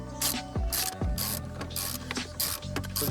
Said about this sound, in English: grab the socket number 10 and slowly undo each one